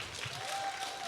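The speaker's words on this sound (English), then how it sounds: "Give a round of applause to Dave one time." Audience clapping at an evening church worship gathering, a brief dense patter of many hands, faint and distant in the room.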